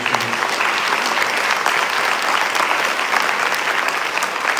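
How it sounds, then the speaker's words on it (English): An audience claps enthusiastically for a young Kuchipudi dancer at her stage debut recital, a loud, sustained wash of many hands without a break and no voices above it. "I would ask to keep your applause continuing"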